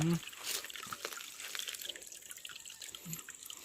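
A forest stream trickles and drips softly during a walk along its bank, faint water sounds with scattered brief noises.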